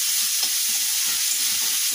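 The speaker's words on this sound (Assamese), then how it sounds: "অলপ ভাজি লওঁ।" Bitter gourd and potato pieces, seasoned with salt and turmeric, fry in a pan with a steady close hiss and sizzle, broken by soft scrapes and stirring clatter throughout.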